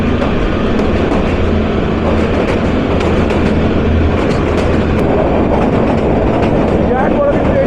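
Kalka–Shimla toy train rolling through the long tunnel number 91 after leaving Taradevi station, a loud, steady, enclosed rumble of wheels and carriages with faint clicking and a low hum throughout.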